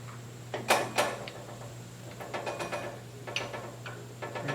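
A 14mm wrench works a tensioner nut on a PM 1228 lathe, giving a few sharp metallic clicks and scrapes over a steady low hum in a quiet shop.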